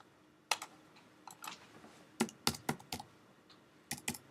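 Typing on a computer keyboard, heard as short bursts of crisp key clicks with brief pauses between them, close and clear with no talking.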